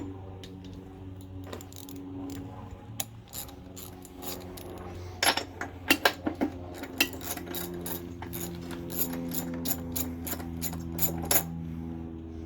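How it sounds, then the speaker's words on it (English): A socket ratchet clicks repeatedly while loosening the spark plug on a 1980s lawn mower engine, with sparse clicks at first and then a quick run of close, sharp ratcheting strokes. "Let's take the spark plug out."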